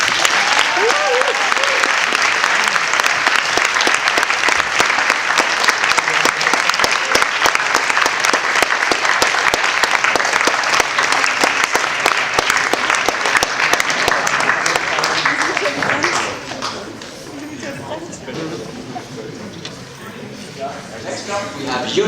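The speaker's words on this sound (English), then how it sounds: "Just give a warm applause, and I yield my time now to your applause" Loud, sustained audience applause and cheering for the Secretary Generals, a dense wash of clapping that holds steady for about sixteen seconds, then drops to a quieter murmur of crowd noise.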